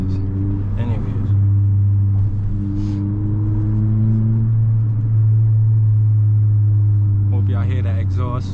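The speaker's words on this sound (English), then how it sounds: "Y'all hear that exhaust?" A turbocharged Honda Civic Si accelerates, its exhaust a deep, droning engine note heard from inside the car that holds steady and climbs slightly, with brief voices near the start and end.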